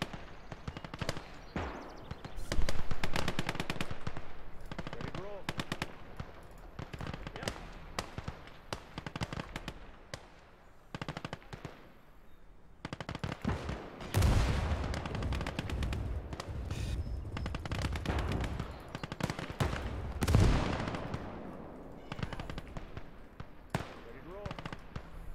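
Bursts of machine gun fire and scattered gunshots sound out in the WWII shooter Gates of Hell during a Hürtgen Forest battle, sharp and loud in repeated rattling volleys with booming impacts, while players chatter excitedly throughout.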